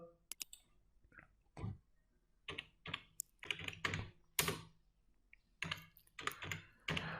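Bursts of keystrokes on a computer keyboard while typing text into a Microsoft Word document, with short clattering runs and brief pauses between them, fairly quiet and close with no voices.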